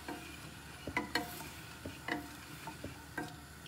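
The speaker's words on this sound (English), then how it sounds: "Stir, stir, stir." A spoon stirring sugar solution in a pot for rock candy: soft, close scraping and clinking strokes in an irregular rhythm over a quiet background, with no talking.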